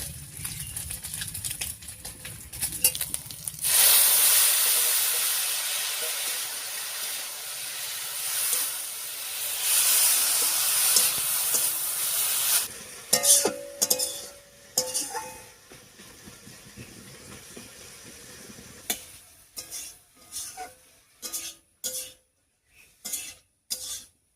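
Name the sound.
pumpkin greens added to a pan with fried shrimp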